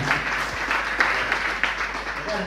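An audience at a Bekasi training-course gathering applauds its teachers, a steady wash of many hands clapping at close range with a few sharper claps standing out and no break for the whole stretch.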